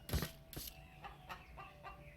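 A chicken in a modded video game clucks softly in a series of short, irregular bursts, faint and without any talk.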